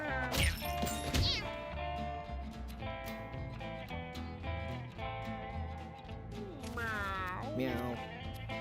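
Cartoonish cat meows from the video game Mewgenics sound repeatedly over game music and effects, with a player's voice talking and imitating meows.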